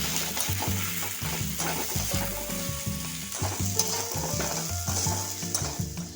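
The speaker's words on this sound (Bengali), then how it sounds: "গরম মশলা গুঁড়ো দিলাম। মশলাটা একটু কষে নেবো ভালোভাবে।" Ground garam masala sizzles and fries in a pan for Chicken 65, a steady crackling hiss with occasional stirring scrapes and clinks, close and without talk.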